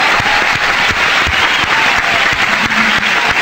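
Loud, dense applause from a studio audience at a live radio concert broadcast, a steady wash of clapping that holds for several seconds with no talk over it.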